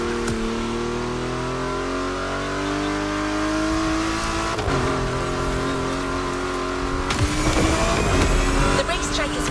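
A Porsche 911 GT3 Cup race car from the game The Crew Motorfest, its engine droning loud and steady as it climbs through the revs, with a shift near the middle and a rougher burst of engine and tire noise near the end.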